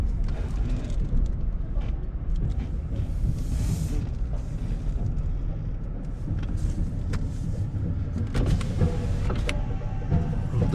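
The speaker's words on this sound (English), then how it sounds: "Down the window to pick up some of the sounds of the street." A car window on a downtown Pittsburgh street hums as it lowers, over a steady bed of traffic and street noise heard from inside the car, fairly faint, with a few clicks near the end.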